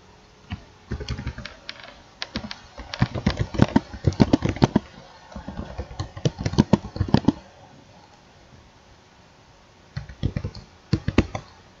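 A computer keyboard clatters in quick bursts of keystrokes, with a short pause before a final flurry of typing. The sound is close and clear.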